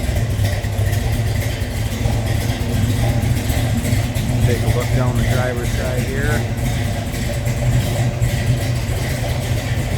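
A 1966 Chevrolet Chevelle SS 396 engine idles with a deep, steady rumble throughout, while someone talks over it close by.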